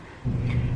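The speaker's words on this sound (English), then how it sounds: "My heater just turned on, so that's what that noise is" A room heater switching on indoors: a low rumbling whoosh starts abruptly and continues as a steady deep hum, fairly close.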